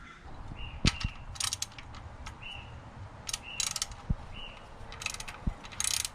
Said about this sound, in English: we need a wrench for this next portion to get the bolts off of here